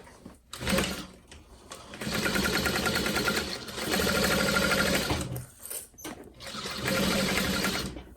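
A sewing machine runs long stitch-length seams through vinyl for a handbag, its rapid needle chatter steady and close in three sustained bursts, separated by short pauses with faint clicks.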